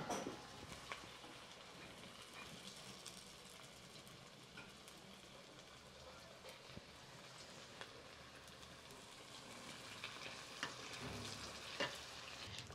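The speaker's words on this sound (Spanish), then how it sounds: "Ya que está bien caliente la cazuela, pues ya voy a echar los taquitos para irlos dorando" Taquitos frying in hot oil in a clay pot give off a quiet, continuous sizzle, with soft crackles and occasional stirring clicks and pops.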